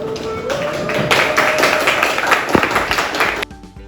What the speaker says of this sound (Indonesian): Oke, kasih aplaus.